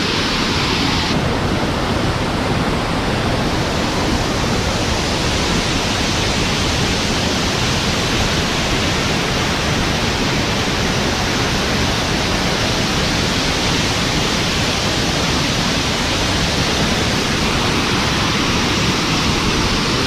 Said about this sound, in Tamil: இதுதான் அந்த வாட்டர் ஃபால் அந்த வியூ பாயிண்ட் தான்